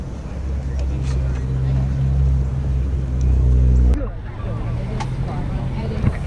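Blue Lamborghini Aventador SV Roadster pulling in at a cars-and-coffee meet in Columbus, its loud low engine droning steadily nearby and then cutting off sharply, with crowd chatter around it.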